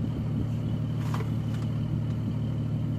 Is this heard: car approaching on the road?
yes